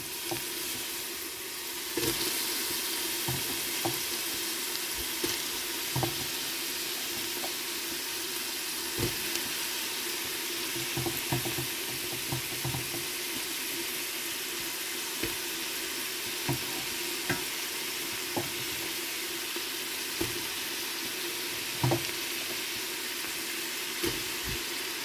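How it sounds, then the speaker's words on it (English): Brussels sprouts frying in oil in a pan, a steady dense sizzle throughout with occasional sharp pops and crackles, close and continuous with no talk. "Now you want to start adding in your Brussels sprouts."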